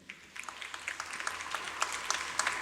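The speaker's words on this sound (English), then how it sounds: "let's cheer for all the students present here" An audience claps at a school graduation ceremony and exhibition, a steady wash of applause that is fairly faint and builds slightly, with no voices over it.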